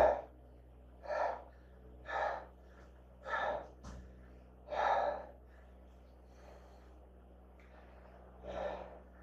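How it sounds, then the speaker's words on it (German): Heavy, deliberate breaths drawn through a face mask, about seven slow puffs spaced over several seconds, close and fairly loud with no speech. "selbstverständlich muss ich etwas stärker atmen, etwas intensiver, zumindest auch ohne Maske."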